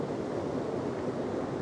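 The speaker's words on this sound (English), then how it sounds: "the water cascading into the pool" Water cascading into a pool at the Three Shires Head waterfall, a steady broadband rushing roar, even and continuous, with no voices.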